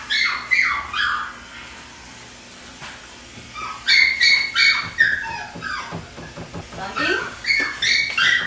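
A small dog squealing and yelping while being bathed, high-pitched cries repeating in bursts with splashing and scuffling underneath, loud and close.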